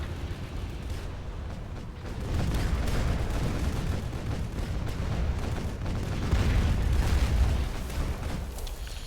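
Aziz Cannon artillery in Rise of the Reds fires in a dense, continuous barrage of booming blasts and rumbling explosions, loud and close throughout, with no voices.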